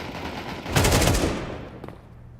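P250 pistol fire in a Counter-Strike esports match, heard as a quick, loud cluster of shots that fades into echo, with a fainter shot afterward.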